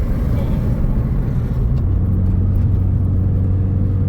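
A turbocharged FRS sports car drives on a city street, heard from inside the cabin as a continuous deep engine rumble and whir at steady loudness throughout.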